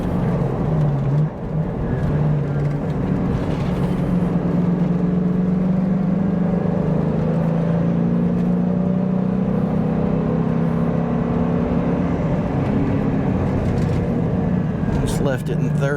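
Old modified Ford Mustang engine held in third gear through corners on an unfamiliar road, a steady loud droning hum with slowly rising and falling pitch, close and continuous, someone talking briefly near the end.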